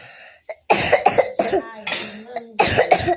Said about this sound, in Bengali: কাশি হচ্ছে, তো কি করবো।